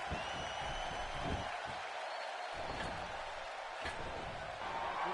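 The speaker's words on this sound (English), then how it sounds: "This crowd going crazy for Stone Cold Steve Austin" Wrestling arena crowd roaring for Stone Cold Steve Austin during a WWE 2K video game match, a dense continuous wash of cheering with a few sharp impact hits and faint commentary beneath.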